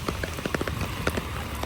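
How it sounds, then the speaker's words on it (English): Heavy rain pours steadily with a dense, continuous patter of drops on hard surfaces, loud and close throughout. "and it is a rain pour."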